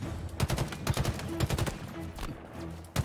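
Loud, sharp bursts of rifle fire crack out in quick clusters during a Halo Infinite battle, with brief gaps between volleys and a low background rumble.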